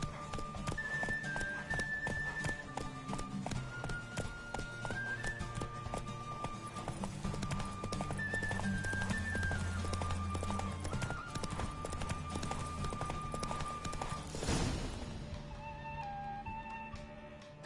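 Horse galloping in a race in the video game The Witcher 3, a rapid steady clip-clop of hooves over game music, ending with a louder whoosh and the galloping fading out.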